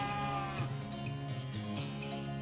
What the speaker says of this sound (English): That's a mooing sound that he makes when I use that power.